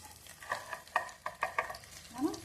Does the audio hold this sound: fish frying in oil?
yes